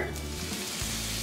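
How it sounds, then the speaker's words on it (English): Butter hits a hot skillet and sizzles, an even, fairly loud frying hiss that holds steady for the whole moment without any talking. "To your hot pan, we're going to add the butter."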